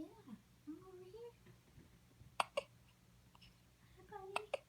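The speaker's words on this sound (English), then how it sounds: "you have the hiccups." A young child hiccups a few times, sharp brief catches at irregular intervals amid soft vocal sounds and babbling, fairly faint and close in a quiet room.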